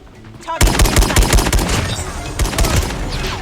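Rapid bursts of SKS rifle fire in Call of Duty Mobile, loud close cracking shots in quick irregular succession with brief gaps, starting abruptly after a quiet moment.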